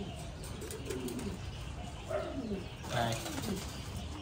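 American Giant pigeons coo softly in Thai-style cages, low rounded calls rising and falling a few times against steady background noise, with a brief spoken word at the start.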